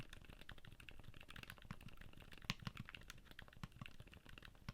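Soft, muted typing on a mechanical keyboard with silent linear switches, a quiet, rapid patter of dampened keystrokes alone without talk.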